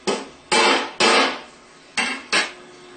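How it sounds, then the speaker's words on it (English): A hammer strikes a Phillips screwdriver five times, sharp metallic clanks with ringing tails, working loose a tapered part while rebuilding a Bosch alternator. Two hits come close together, then two more, then a final pair, all close and alone. "Put a Phillips screwdriver in there and tap it down with the hammer"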